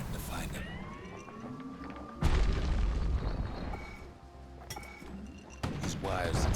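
A grenade explodes in the video game Bastion with one loud, sudden boom that rumbles on over game music and a narrating voice, and another sharp burst comes near the end.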